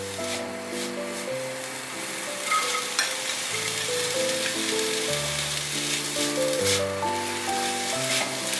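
Sliced zucchini and bamboo shoots stir-fried in a pan, a steady loud sizzle with scraping stirs, while faint background music plays throughout.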